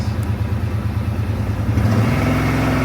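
A four-wheeler ATV engine, running a little rough after sitting, idles with a pulsing throb, then revs up into a louder, steady drone, close and alone.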